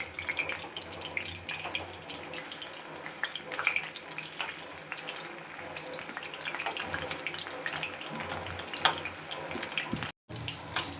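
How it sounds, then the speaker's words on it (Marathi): Thread chicken pieces frying in hot oil and being turned until golden brown, giving a steady close sizzle dotted with small crackles and pops throughout, with no talking. "आता गोल्डन ब्राऊन रंग येईपर्यंत अलटून पलटून आपल्याला हे छान असे फ्राय करून घ्यायचे आहेत"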